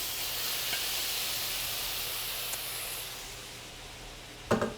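Beef tossed back into a hot pan of cooked vegetables gives a steady, close hiss and sizzle that slowly eases, ending in a short burst of louder crackle.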